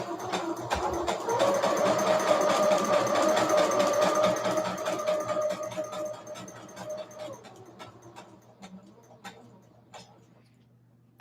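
A sewing machine runs with a rapid mechanical whir and rhythmic ticking, steady for several seconds, then slows and winds down into scattered clicks.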